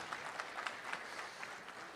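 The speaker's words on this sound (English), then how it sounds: "I think he deserves a big round of applause." A small crowd at an Indian American diaspora meet-and-greet in San Jose claps in a brief, faint patter of scattered hand claps.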